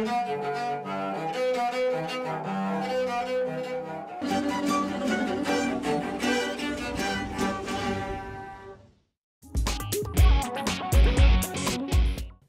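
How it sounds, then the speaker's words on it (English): A homemade cello built from an oil can and discarded scrap wood is bowed, giving sustained resonant tones through several phrases, a brief pause, then a final louder passage with stronger low notes. "This cello is made from an oil can and wood that was thrown away in the garbage."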